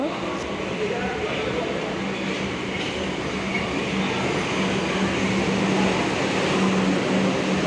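Kolkata metro train running, a continuous loud rumble and rail hum inside the carriage with a steady low drone, no clear breaks; faint voices may sit under the noise.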